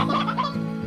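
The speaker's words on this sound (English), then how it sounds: "kill some chickens." Video-game chicken in Slime Rancher clucking in a quick burst of rhythmic, pulsing cackles over a steady low game hum, close and fairly loud.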